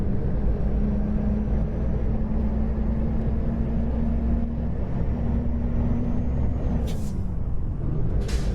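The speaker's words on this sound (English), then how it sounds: "brakes are really noisy" Low steady truck engine drone in a trucking video game, then two sharp hissing bursts of air brakes near the end.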